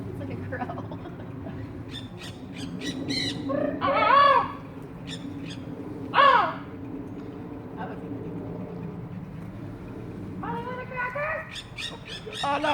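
A flock of muff parrots gives harsh, loud squawks in several bursts, close by, over a steady background hum with scattered chirps between calls.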